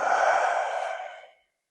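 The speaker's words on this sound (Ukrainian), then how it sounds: "Видихаємо." One long, soft exhalation during a breathing exercise, close and breathy, tapering away to silence after about a second and a half.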